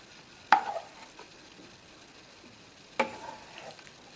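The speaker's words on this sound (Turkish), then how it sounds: "Şimdi kıymalı harcımızı döküyoruz." Minced meat filling spooned over baked pasta in a dish, two soft wet plops a couple of seconds apart with faint scraping between, quiet and close, no talking.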